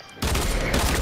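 Rapid gunfire in a video game starts abruptly after a brief quiet moment, then continues as a loud, dense burst of shots to the end.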